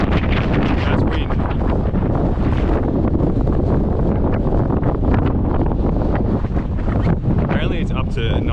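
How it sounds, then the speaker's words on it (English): Extreme gusting wind, near 96 km/h, buffets a GoPro HERO13 Black microphone outdoors, a loud continuous roaring rumble that swamps the scene for the whole stretch, with a voice faintly talking beneath it. "That's wind."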